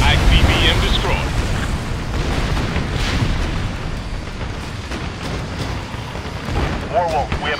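An ICBM is destroyed in a video game, with a deep rumbling explosion roaring loudly across several seconds and a dense low boom that slowly fades while a voice speaks briefly near the end.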